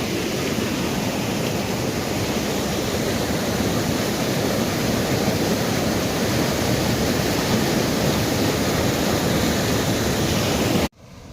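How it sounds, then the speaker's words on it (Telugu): Water rushes steadily along the right canal of the Krishna river, a dense, continuous roar heard up close with no talk, cutting off abruptly at the very end. "ఈ వాటర్ అనేది వెళ్తూ ఉంటుంది చూడండి ఈ కాలువ కృష్ణానది కుడి కాలువ ఒక భాగం"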